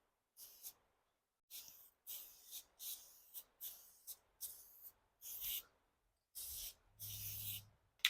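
Close, hissing spray bursts lay light coats onto BMW headlight lenses, about a dozen short blasts separated by quiet gaps, with a few longer sprays near the end.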